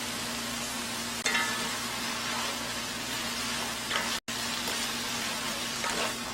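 Bean sprouts and sliced chili pepper stir-frying in a pan, giving a steady close sizzle with faint stirring scrapes, alone without talk.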